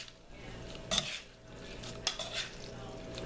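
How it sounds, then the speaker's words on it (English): A spoon stirs bolognese sauce in a pan, making faint scraping strokes with two brief louder sweeps against the metal over a low, quiet kitchen background. "Then you're going to want to add your Bolognese sauce. And then just kind of stir that around."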